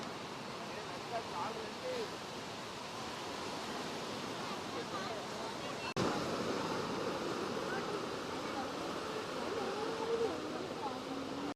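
Sea waves at a beach in Visakhapatnam, a broad continuous surf roar with wind buffeting the microphone, swelling slightly louder in the second half, heard alone without talk.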